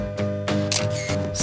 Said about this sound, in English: The touch shutter feature automatically releases the shutter when the subject is in focus.